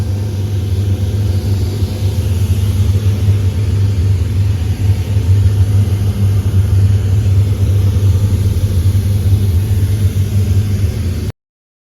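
A Mercedes G-Wagon's OM605 diesel engine runs nearby with a loud, steady low rumble and clatter that holds without a break for about eleven seconds, then cuts off abruptly.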